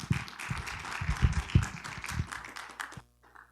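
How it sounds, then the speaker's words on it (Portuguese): A church congregation claps together in a burst of dense, fairly close applause that stops abruptly near the end, leaving a faint tail. "Aplauda o Senhor Jesus."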